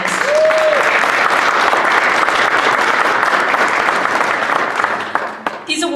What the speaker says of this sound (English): A round of applause for the finalists.